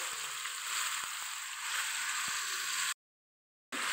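Paneer frying in a pan until browned, a close, steady hiss of hot oil with a few faint clicks, cut off by a brief silence near the end.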